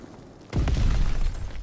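A loud explosive blast in a WW2 video game match on London Docks, a sudden close boom with a deep rumbling tail that lingers for over a second.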